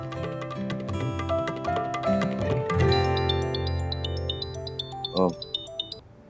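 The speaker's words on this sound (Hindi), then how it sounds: "माँ का फोन आ रहा है तेरी" A bright electronic phone ringtone plays a repeating melodic jingle, loud and close, with a brief muffled voice near the end.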